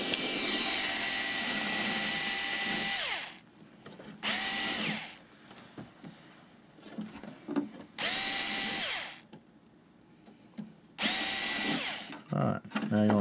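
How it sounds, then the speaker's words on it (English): Bursts of a small power drill boring servo holes in a model airplane build, several loud whining runs of a few seconds each separated by quieter handling noise. "after you drill your holes, CA them"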